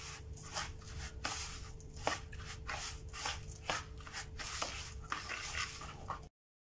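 Shredded coconut is mixed with condensed milk into a dough, a soft, close, rhythmic rubbing and squishing repeated at an even pace, fairly quiet, with no talking.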